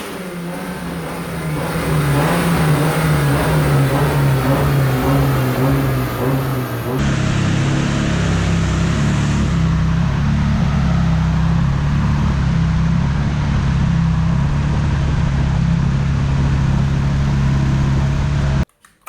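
A turbocharged Hyundai G4GF Beta 2.0 drag-racing engine in a Verna screams on a dyno, holding a loud sustained rev that drops in pitch and steadies partway through before cutting off at the end.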